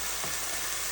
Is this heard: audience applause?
no